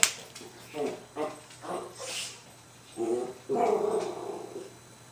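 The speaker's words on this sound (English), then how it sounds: "my dog decided to start barking" A pet dog barks and growls in short, irregular bursts close to the microphone, some yips and whimpering tones mixed in, across about five seconds indoors.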